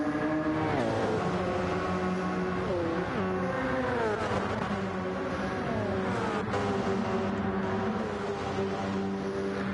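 LMP1 prototype race cars roar around Spa in a racing video game, several engines blending into a steady loud drone with rising and falling pitch sweeps as cars accelerate and pass.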